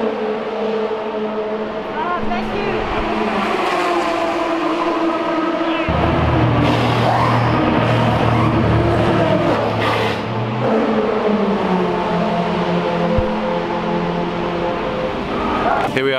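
Race car at night at Le Mans, a loud sustained engine roar whose pitch rises and falls through gear changes over about sixteen seconds, with brief voices mixed in.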